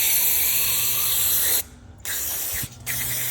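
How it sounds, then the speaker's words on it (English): Cleaner sprayed onto the choke shaft of a Briggs and Stratton carburetor: a loud, close hiss of aerosol in two bursts, each ending abruptly, followed by a shorter third spray. "we'll spray some right on this choke shaft where it enters"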